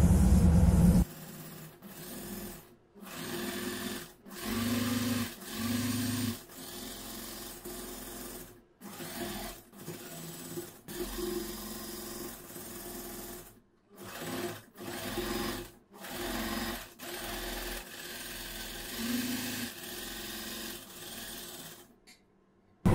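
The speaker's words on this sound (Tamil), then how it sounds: "நம்ம இப்ப வந்து பேக் சைட்ல இருந்து இப்படி தைக்க தொடங்கிக்கலாம்." A sewing machine stitches the waistband of a churidar pant in repeated short bursts of rapid whirring, several seconds each, separated by brief pauses, close and fairly quiet.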